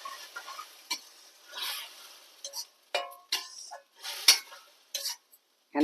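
Tomato juice cooks in a pan for chicken curry, with short bursts of sizzling and scraping stirring, close by, separated by quiet gaps.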